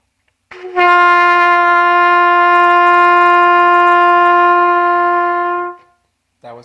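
A single long sustained trumpet note, the player's first of the day, held loud and steady for about five seconds before fading, followed by a brief breath or second onset.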